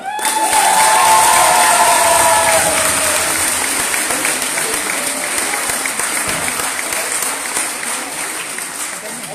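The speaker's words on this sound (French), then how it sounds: "veuillez faire un tonnerre d'applaudissements à Harmonie Auquel." A loud burst of applause from a crowd at a debate and eloquence contest, with some cheering at the start, continuing steadily and fading slightly over nine seconds.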